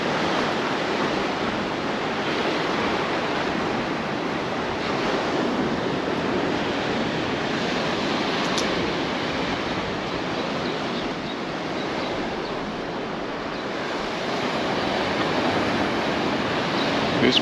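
Heavy surf crashes along the rocky coast at Paguera, Mallorca, a steady broad roar of rough waves with wind buffeting, swelling slightly toward the end, no voices.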